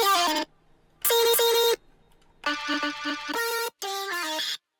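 A vocal chop pitched up twelve semitones with chorus, EQ, de-essing, heavy compression and delay, playing as bright, close, stepped synthetic vocal phrases in several separate bursts with short silent gaps between them.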